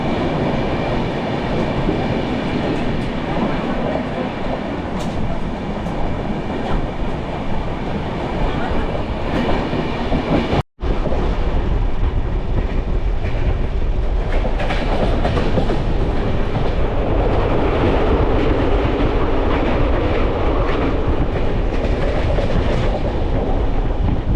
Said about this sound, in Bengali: ট্রেনটি 1 মিনিট দাঁড়িয়ে আবার রওনা দিল